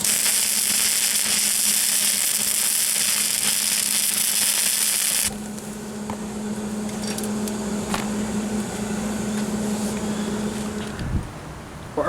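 MIG welding on the rusty driver door frame of a Jeep Wrangler YJ: a loud, steady crackling buzz holds for about five seconds, then a quieter hiss and hum continue with faint crackle to the end.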